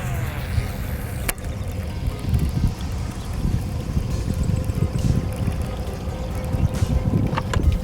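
Steady wind gusting across a river bank on the California Delta, a continuous low rumbling buffet on the microphone with a few faint clicks.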